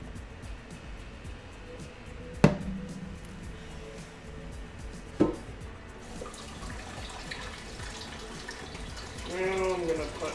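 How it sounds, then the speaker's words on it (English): Tap water runs into a bottle being rinsed, a soft steady stream broken by two sharp knocks of the bottle and ending in a gurgling fill. "Now I'm gonna put some water in here. I'm gonna quickly clean this bottle."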